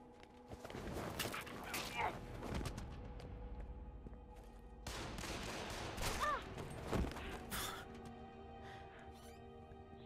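Gunfire in the video game Devil's Third, scattered bursts of rapid shots in two clusters separated by quieter stretches, mixed with game effects and sustained tones; no voices.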